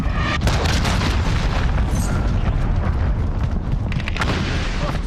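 A missile detonates in the video game Call of Duty Modern Warfare, a loud booming blast followed by a sustained roaring rumble that fills several seconds, with faint scattered cracks.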